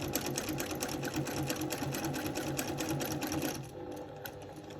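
A sewing machine stitches steadily and rapidly during free-motion quilting with a ruler, loud and close with no voice over it, then slows and softens near the end.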